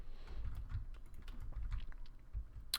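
Computer keyboard keys pressed in a quick, light run of soft clicks and taps, close and quiet, with no voices.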